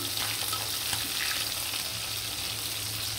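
Bhetki fish fries in hot oil in a pan, a loud, close, continuous crackling sizzle with steady bubbling and no talking.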